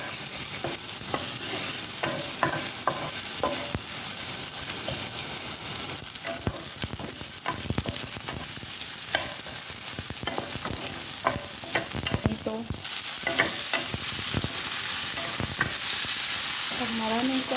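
Onion sautéing with ginger and garlic in a pan, a close, crackling sizzle with frequent pops and stirring scrapes throughout.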